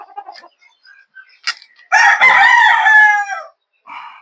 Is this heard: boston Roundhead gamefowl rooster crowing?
yes